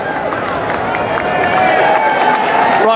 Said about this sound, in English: Ryan Moore and Charles Darwin coming back to the applause of the crowd.